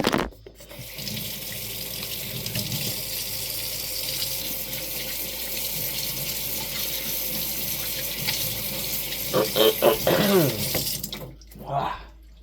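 Kitchen tap water running into a sink during washing while cooking a pasta sauce with sausage, a steady rushing splash that sputters and changes near the end before shutting off.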